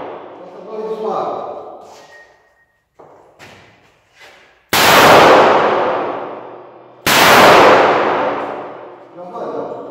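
Two loud, sharp gunshots from a .38 revolver, each a close crack followed by a long ringing decay, spaced about two seconds apart, with someone speaking in Portuguese before and after.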